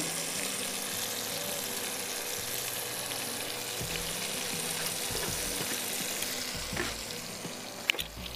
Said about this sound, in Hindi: अब इसको हम अच्छी तरह भून रहे हैं